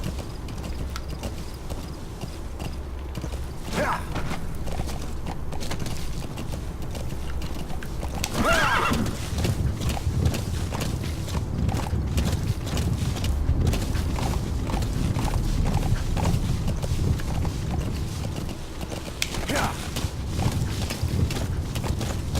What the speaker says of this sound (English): crazy ass horse